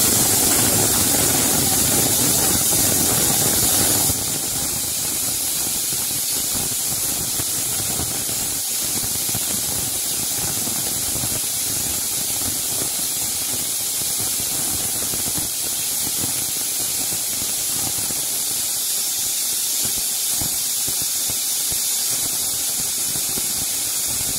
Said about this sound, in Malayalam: ഇങ്ങനെ വിസിൽ ഇളകുന്ന സമയത്ത് ഓഫാക്കാം